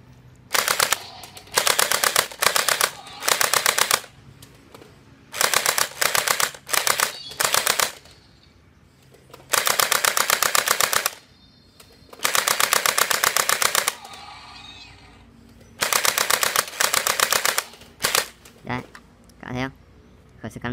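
A PUBG SCAR-L model toy gel blaster fires in long rapid automatic bursts, each a loud mechanical rattle, broken by short pauses, close to the listener, with a person talking between bursts.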